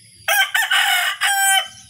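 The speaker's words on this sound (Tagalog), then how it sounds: "Ayun yung manok na panabong" A fighting rooster crows loudly and close by in two long, strident bursts, with a short break between them, against an otherwise quiet background.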